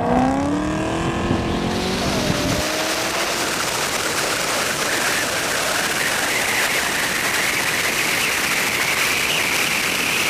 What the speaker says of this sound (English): we are gonna have a little half-mile drag race in this car.